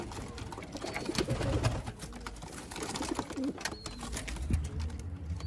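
Pet pigeons, including a pair with two young chicks, cooing close by in a loft, soft repeated throaty coos layered over rustling and shuffling of the birds.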